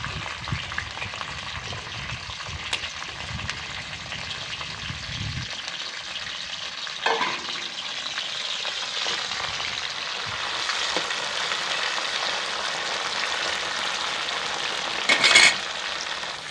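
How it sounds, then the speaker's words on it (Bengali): Yardlong beans frying in oil in a pan: a continuous close sizzle and crackle with occasional stirring scrapes, loud and steady throughout with no talking. "এবার এই তেলের মধ্যেই এই বরবটিগুলোও আমি ভেজে নেব"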